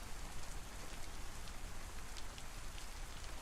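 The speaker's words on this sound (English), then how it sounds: "I keep hearing the rain like hitting the grass" Rain falling on grass in DayZ's Livonia map, a steady, even hiss of countless drops, soft and continuous with no other sound.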